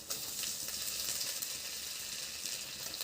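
Garlic and grated ginger frying in hot oil, a steady, fairly quiet crackling sizzle heard close up and alone, with faint soft pops.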